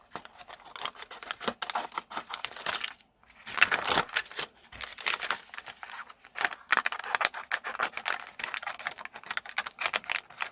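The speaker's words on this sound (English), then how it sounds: "So I just use my masking tape to create a circle and cut that out." Scissors snipping around a circle of masking tape, a long run of small rapid crisp clicks close by, pausing briefly before the snipping resumes.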